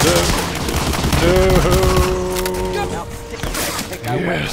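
Gunfire from the Medal of Honor Allied Assault video game, a dense loud fusillade of rapid shots running throughout, mixed with in-game music and voices talking over it.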